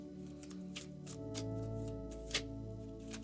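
Tarot cards are handled during a card reading, with soft shuffling, sliding and tapping sounds coming close and quiet in several separate bursts.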